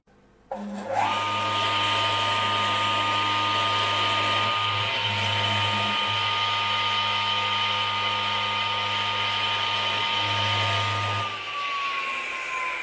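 An HL 6126 8-inch table saw starts up and runs at a steady, smooth whine with a low hum beneath, holding constant for about ten seconds before spinning down near the end; no voices.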